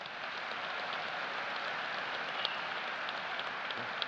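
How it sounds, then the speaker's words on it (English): A graduation audience applauds the junior marshals at a high school ceremony, a dense, even wash of clapping from many hands that holds steady throughout, heard from a distance. "Let us give them a round of applause."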